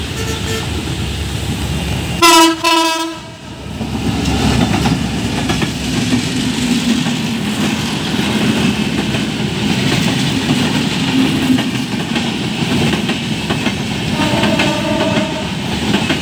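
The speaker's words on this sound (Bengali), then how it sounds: "791 বনলতা এক্সপ্রেস 66 লোকনি এইমাত্র কুড়িল অতিক্রম করলো" Banalata Express, hauled by a new EMD GT42AC diesel locomotive, passes at speed. It opens with a loud train horn blast, then a steady close rumble and clatter of wagons rolls on throughout, with a fainter horn near the end.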